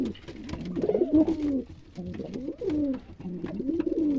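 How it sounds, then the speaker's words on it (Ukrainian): Domestic pigeons coo close by in low, rolling phrases that repeat several times, with faint background noise and no voices. "Голуби здорові, не хворі, як видите, рухливі, їдять нормально."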